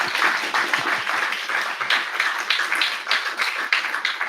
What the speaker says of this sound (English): I guess we didn't do the applauding yet